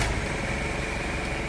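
A Ford Ranger engine runs steadily just after being switched on, a close, constant idle drone with a broad rumble and hiss, no talk over it.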